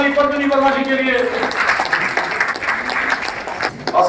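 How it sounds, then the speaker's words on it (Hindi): An audience at a Green Army gathering in Raipur breaks into sustained applause, many hands clapping together while a voice speaks over the start and the clapping carries on to the end. "जोरदार ताली पद्मिनी वर्मा जी के लिए।"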